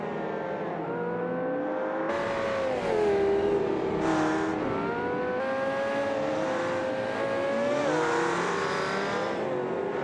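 GT race cars lapping at the Bathurst Grand Prix during a GT World Challenge race, engines droning loudly and continuously with rising and falling revs as cars shift gears and pass close by.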